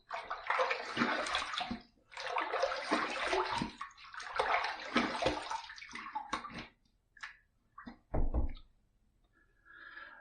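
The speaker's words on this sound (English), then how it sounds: "Let's rinse." Water splashing and running as a face is rinsed after a cold-water shave, several bursts of splashing separated by brief pauses, ending with a few drips and a louder splash.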